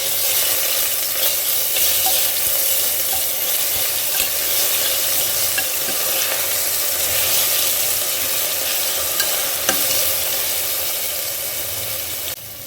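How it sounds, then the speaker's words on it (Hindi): Ginger-garlic paste with a pinch of asafoetida is stirred into hot fat in a pan for Rajasthani panchmel dal tadka. A constant, dense sizzle fills the clip with soft stirring scrapes and no speech. "हमने जो अदरक लहसुन की पेस्ट करी थी वो भी डालेंगे और इसको अच्छे से मिक्स कर देंगे"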